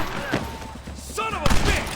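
Gunfire in Red Dead Redemption bursts out in a couple of loud, sharp volleys amid game effects, with voices talking around the shots.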